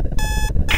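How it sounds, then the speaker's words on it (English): An alarm clock rings in loud, shrill electronic bursts, two long tones broken by a short gap and then a brighter third burst, close and harsh with nothing else over it. "Ugh, that annoying alarm clock. Time to turn it off."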